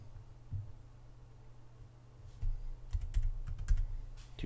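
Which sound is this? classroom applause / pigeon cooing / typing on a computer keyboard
typing on a computer keyboard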